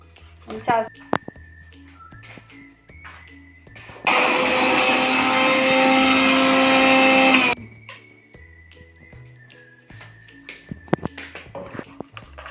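A kitchen mixer grinder crushing green chili, ginger, garlic, shallots and fennel seeds, running as a loud steady whir for about three seconds between stretches of a person talking.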